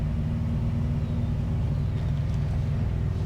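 A motorcycle rides through the Black Hills near Sturgis, its engine a steady low rumble with constant road and wind noise throughout and no talking.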